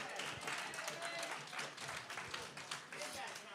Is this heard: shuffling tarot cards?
no